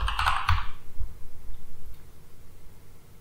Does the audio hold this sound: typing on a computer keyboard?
yes